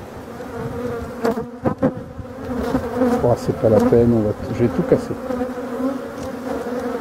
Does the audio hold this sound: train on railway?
no